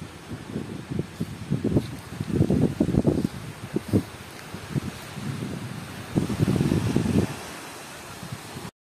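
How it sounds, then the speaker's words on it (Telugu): Wind and surf on a tree-lined beach on Havelock Island in the Andamans, gusting in uneven bursts of rushing noise with a steady breezy hiss and distant wave wash throughout. "ఒకసారి వినండి ఆ వేవ్స్, ఆ గాలి సౌండ్ ఎంత బాగుందో."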